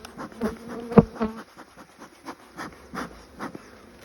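Honey bees buzz steadily around an open cedar hive during an inspection after a little smoke, with a dense close drone that swells sharply for a moment and then settles into irregular, fluttering hums.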